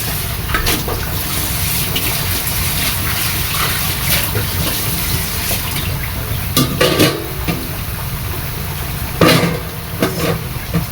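Water is poured into a simmering pot of fish and green papaya curry, a steady continuous splashing pour with a few brief clinks and bumps near the end, no voices.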